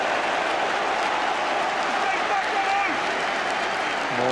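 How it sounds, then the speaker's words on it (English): Charlton supporters applaud across a stadium during a 1998 football match against Aston Villa, a steady broad patter with a commentator speaking over it. "More applause from the Charlton supporters."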